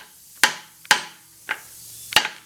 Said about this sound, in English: we used the air impact and a brass hammer, and you're going to tap it and use the impact, make sure that it seats